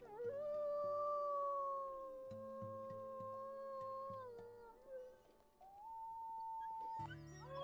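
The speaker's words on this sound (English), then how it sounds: "We howl." Wolves in the video game WolfQuest howl in long, wavering sustained tones, several voices overlapping over a soft game music bed, fairly quiet and without talk.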